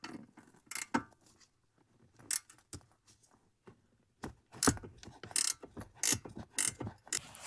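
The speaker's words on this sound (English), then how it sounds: "which I need my deep socket for, or my ratcheting wrench." A ratcheting wrench works a 10 mm nut under the hood of a 2003-2008 Lexus RX330/350 during AC compressor work, giving sharp irregular clicking bursts and metallic ratchet rattles up close, separated by quiet gaps.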